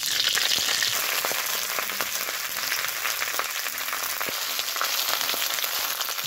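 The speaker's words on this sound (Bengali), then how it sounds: "সরিষার তেলের সঙ্গে পুঁই পাতাটা এইভাবে একটু ভেজে নেব নিয়েছি" Malabar spinach leaves fry in hot mustard oil, making a loud, dense, continuous crackle and sizzle with scattered sharp pops, close up and without talking.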